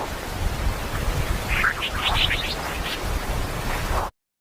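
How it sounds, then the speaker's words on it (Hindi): Recorded solar-storm dispersive waves heard as a dense hiss of static with a run of quick rising chirping whistles in the middle, then an abrupt cutoff. "यह उन डिस्पोज बीप की आवाज है जो सौर तूफानों के जरिए सफर करती है।"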